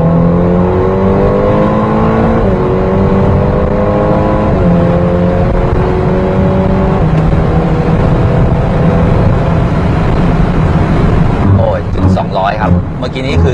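A Ferrari Portofino's engine roars and climbs in pitch as the car accelerates hard to 202 km/h, heard loud from inside the car, with a few upshifts breaking the rising drone and road and wind noise swelling near the end.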